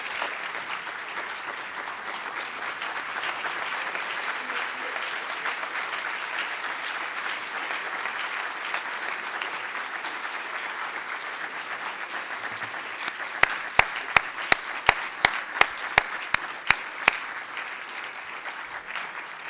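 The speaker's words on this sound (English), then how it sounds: "how about a round of applause for Dorothy Jackson?" An audience applauds steadily after a lecture, continuous clapping at moderate loudness, with a few sharp, close individual claps standing out near the end.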